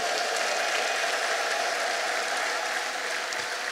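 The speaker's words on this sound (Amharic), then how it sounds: "ጭብጨባ ስግደት" Sustained applause from a church congregation during a worship service, a dense, steady clapping that fills the room evenly and close, continuing without a break and without speech over it.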